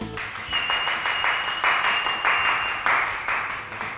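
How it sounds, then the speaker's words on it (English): Hands clapping in a kitchen after a vol-au-vent filling is finished with olive oil, a steady run of sharp, fairly close claps repeated about every half second for several seconds. "every time I'm finishing a filling, you have to clap your hands"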